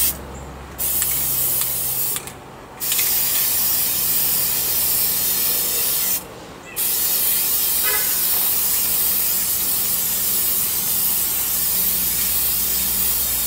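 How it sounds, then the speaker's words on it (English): Aerosol spray paint hissing onto the chain of a birdcage, long close bursts broken by three short gaps, steady and alone without speech. "I'm gonna spray the chain as well."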